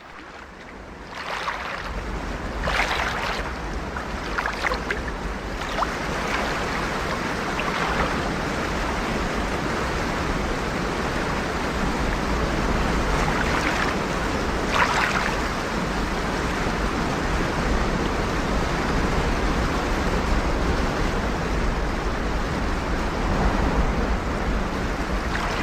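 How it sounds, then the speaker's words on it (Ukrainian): A steady, broad roar of rushing water fills the whole stretch, constant and loud with wind-like noise over it. "Ти чуєш гуркіт водоспаду?"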